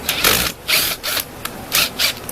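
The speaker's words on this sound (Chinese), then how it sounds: "那这个螺丝上回去，上螺丝要对角上" Screws being driven back into the housing of a Makita DGA404 18V 4-inch cordless brushless angle grinder during maintenance, heard as short close-up bursts of rubbing, ratcheting turns separated by brief pauses.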